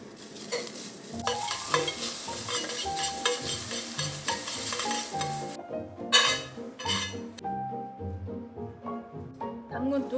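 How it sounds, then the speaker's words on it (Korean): Thin strips of egg-white garnish are stir-fried in a little cooking oil for Korean gujeolpan, with a bright sizzle and clinking utensil taps over soft melodic background sound; the sizzle drops away partway through. "식용유 조금만 두르시고 이제 하얀 거부터 이렇게 볶아주시면 됩니다"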